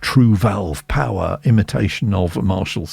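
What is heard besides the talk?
None of the usual background noises is heard.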